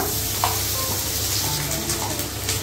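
Yogurt, turmeric powder and ginger paste are sautéed for a katla fish curry with potato and pointed gourd, giving a soft steady sizzle with light stirring scrapes up close and no speech.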